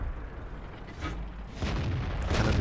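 Tank cannon fire in World of Tanks, with a Jagdpanther in the battle: low booming blasts in the middle distance, one around the midpoint and a louder one near the end, over steady rumbling game ambience.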